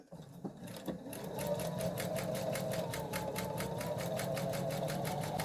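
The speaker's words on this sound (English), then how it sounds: "I sew on the outside of the seams" A sewing machine stitching around a paper-pieced quilt patch runs with a fast, even mechanical whir and a rapid rhythmic needle clatter, close up and steady after a few brief clicks at the start.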